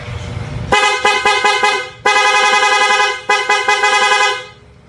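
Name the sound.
motorcycle stock horn honking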